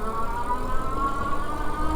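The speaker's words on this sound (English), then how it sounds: "So definitely a pretty peppy electric cargo bike." A Troxus Lynx electric cargo bike pulls away on throttle, its motor giving a steady close whine that rises slightly under a constant rush of wind and road noise.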